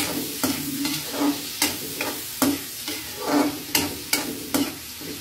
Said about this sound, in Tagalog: pinaghalo ko na din yung kamatis at kunting bawang